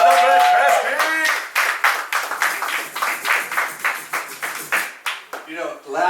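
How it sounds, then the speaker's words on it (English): An audience claps its hands at a homeless benefit, a run of brisk rhythmic claps keeping time while a voice speaks over them throughout. "Clap your hands, clap your hands, clap your hands"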